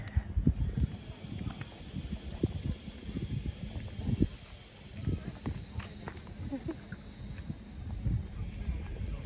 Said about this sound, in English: There's a good breeze on here